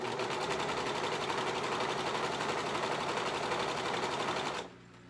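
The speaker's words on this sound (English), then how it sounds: "Now when I'm sewing on my serger and I'm making something like a baby blanket" A serger sewing machine stitching a baby blanket runs at a fast, even, loud buzz for about four and a half seconds, then stops abruptly, leaving only faint room hum.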